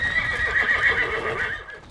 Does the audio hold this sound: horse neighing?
yes